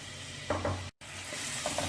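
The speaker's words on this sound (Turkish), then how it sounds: "Isınmış olan yağımıza soğanlarımızı katıyoruz." Onions hit hot oil and sizzle softly, a faint crackling hiss with light stirring scrapes and a brief cut of silence midway.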